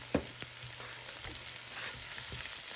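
Chopped garlic and asafoetida frying over low gas in a pan while an onion and gram flour sabzi is started, a steady close sizzle with a few sharp crackles and stirring knocks, no talking.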